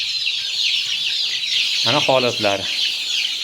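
A crowd of Andijan black chicks peeps constantly in a dense, high twittering chorus, close by, while someone speaks briefly partway through.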